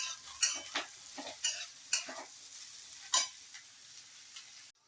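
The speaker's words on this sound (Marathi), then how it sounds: "हा पण चांगला तेलात फ्राय करून घ्यायचा आहे." Thinly sliced cabbage and mixed vegetables for veg fried rice being stir-fried in oil, a close, steady sizzle broken by several sharp scraping stirs of the spatula, with no talking.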